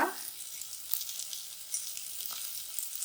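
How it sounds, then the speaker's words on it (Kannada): Cloves, cinnamon and black pepper frying in a pan for chicken sambar, a close, steady bright sizzle with light crackles throughout and no talk. "ಇಷ್ಟು ಹಾಕೊಂಡು ಫ್ರೈ ಮಾಡ್ಕೊಳ್ಳೋಣ"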